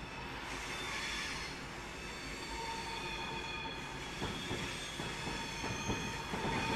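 Class 350 electric train on the West Coast Main Line through the Trent Valley, a steady loud rumble and whine of the passing train, with wheel clatter and rhythmic clicks building toward the end.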